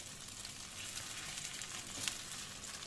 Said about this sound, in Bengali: পনিরগুলো একটু ভালো করে লাল লাল করে ভেজে নিতে হবে।